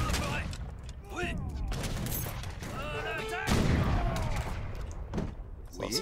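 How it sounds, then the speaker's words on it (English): Cannon and musket gunfire in an Age of Empires III battle, dense overlapping shots and booms with rising whistles, under continuous game noise and bursts of voices. "instant cannon fire on that"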